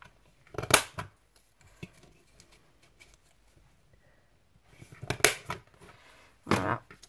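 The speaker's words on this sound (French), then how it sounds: "Moi, je coupe ça. Je vais faire arrondir mes angles." Cutting the corners of a card round with scissors or a punch for a shaker memory-dex: a few crisp snipping bursts, close and fairly quiet, separated by quieter rustling and handling sounds.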